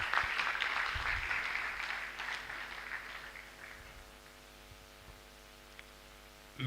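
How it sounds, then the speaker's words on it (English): Applause from an audience at an anniversary and induction ceremony, honoring the Vice Chancellor; clapping fades over a couple of seconds into a quiet room hum. "Another round of applause for the Vice Chancellor."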